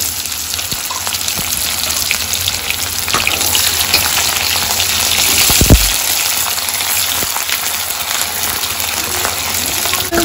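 Long-sliced onion frying in hot oil with browned cumin and asafoetida, a loud continuous hissing sizzle close up, with a brief clatter midway and no voices.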